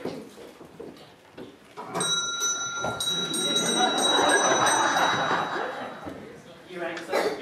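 A bell rung to summon a butler in a period drama, heard as a bright sustained ringing tone that lasts a few seconds amid room noise and movement.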